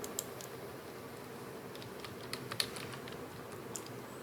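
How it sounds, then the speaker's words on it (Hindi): Typing on a computer keyboard while entering a job search, soft, close key taps at an uneven pace over a quiet background. "यहाँ पर आप टाइप करिए"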